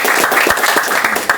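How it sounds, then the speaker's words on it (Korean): A group applauding at the end of a football season gathering, brisk clapping from several people, close and lively for a brief moment. "박수 한번 주세요."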